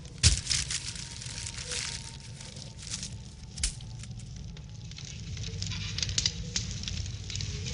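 Bonfire at an anime military camp where a message is being burned, crackling and popping softly with scattered sharp snaps over a low, steady hiss, fairly quiet and without speech.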